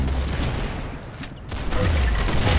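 Rapid bursts of gunfire in the Roblox shooter Arsenal, loud and dense, dipping briefly in the middle before resuming in a heavy stream.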